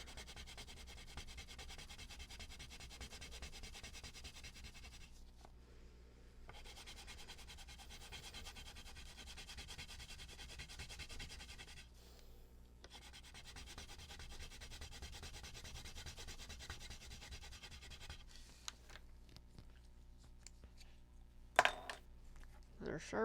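Soft, continuous scratchy strokes of pencil colouring on paper, quiet and close, running in long stretches broken by two short pauses, with a few light clicks and taps near the end.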